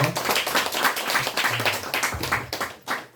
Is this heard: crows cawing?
no